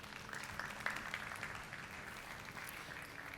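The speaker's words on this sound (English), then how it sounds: "you can applaud the speakers" Faint audience applause at a health data and AI panel at MWC Barcelona, a soft continuous patter of clapping heard from a distance in a conference hall.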